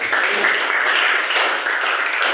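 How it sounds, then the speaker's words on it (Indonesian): A class gives a student a round of applause, a steady, dense wash of many hands clapping at an even level throughout. "Oke, tepuk tangan buat Mari."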